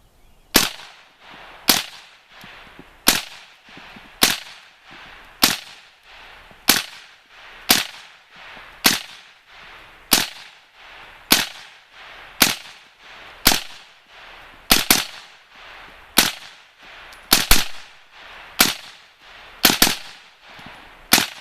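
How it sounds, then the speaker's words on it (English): A Kel Tec RDB rifle fires through a full magazine outdoors, about eighteen sharp, loud single shots at a steady pace of roughly one per second, each with a short echoing tail, with no voices. "I'm gonna charge it up and put a full mag through it and see what we think."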